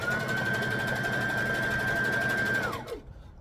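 A sewing machine stitches fabric for a wrap skirt, a steady fast whirring hum up close that winds down and stops near the end.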